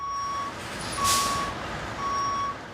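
A 13.5-metre, 100 cubic-metre delivery truck reverses with steady repeating backup beeps, an engine rumbling underneath and a brief hiss of air brakes midway.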